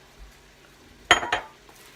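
Cut asparagus pieces tossed into a cooking pan land with two quick metallic clinks and clatters close by, after a quiet kitchen background.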